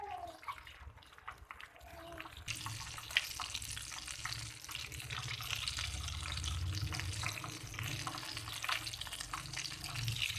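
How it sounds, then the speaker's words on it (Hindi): Potato balls fry in hot ghee in a home kitchen, a steady close crackling sizzle that grows denser and louder after a quieter opening, with no talk. "ये देखें ये फ्राई हो रहे हैं।"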